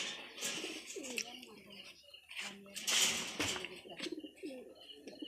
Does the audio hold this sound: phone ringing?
no